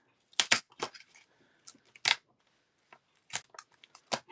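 Stitched work being peeled gently up off a card gives soft, scattered ripping and crackling bursts, quiet and close, separated by brief pauses.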